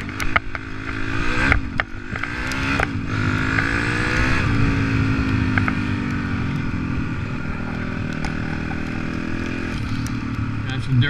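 A 2006 Honda CRF 250X dirt bike engine runs and revs up and down in wet weather, a buzzing close-up drone with rising and falling pitch and a few sharp knocks early on.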